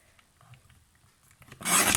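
Designer series paper for card making is sliced cleanly with a blade: a short, close rasping swipe near the end after quiet handling noises.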